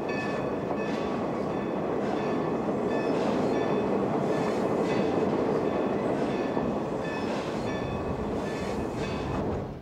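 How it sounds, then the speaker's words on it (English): A steam locomotive leading a manifested express train rumbles past close behind a depot, loud and continuous, with rhythmic clattering of wheels and faint squealing tones over the heavy roar. "leads a manifested express train behind the depot."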